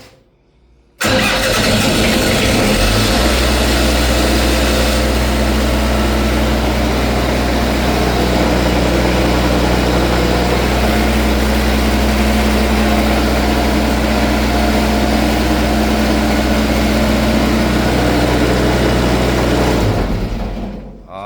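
A heavy fire pump engine in a building starts up and runs loudly and steadily for about twenty seconds, a constant rumbling drone, then cuts off.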